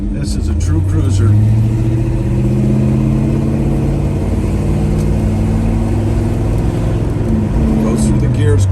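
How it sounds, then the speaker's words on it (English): A 1969 Chevrolet Chevelle drives along and shifts through its gears, the engine's steady drone rising and dropping in pitch with each change, loud and close throughout. "Goes through the gears great."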